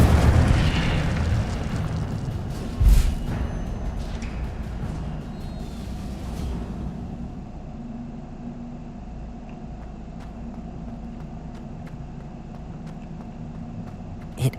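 A fire spell cast in Hogwarts Legacy gives a loud burst of fiery whoosh at the start and a sharp boom near three seconds, then a steady low rumbling ambience with another brief pop at the end.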